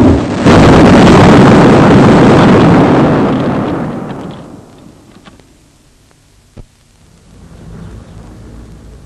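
An atomic bomb explosion sound effect from a civil defence film opens as a loud, deep roaring blast and rumbles on for several seconds before fading to a low hum.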